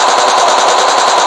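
Rapid, unbroken machine gun fire in a battle royale video game, a dense, loud, close burst of automatic shots lasting the whole moment with no voices over it.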